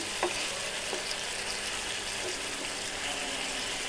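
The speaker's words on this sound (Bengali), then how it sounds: "মাছ দিয়ে দিলাম আমি সুন্দর করে কষিয়ে নেব মশলাটাকে" Fish frying with spices in a pan, a steady close sizzle throughout with a few light stirring clicks.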